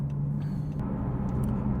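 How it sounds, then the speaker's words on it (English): Steady low engine rumble from a BMW M4 diesel idling while warming up, close and continuous with a faint high whine over it. "just until the engine gets warmed up"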